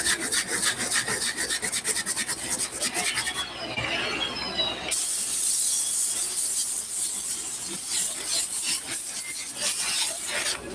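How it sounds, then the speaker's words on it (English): A wire brush scrubs the hot sole of a suede shoe in quick, rapid back-and-forth strokes, a loud raspy scratching with a brief pause partway through before the brushing resumes steadily. "I'm using a wire brush to kind of grab it while it's hot."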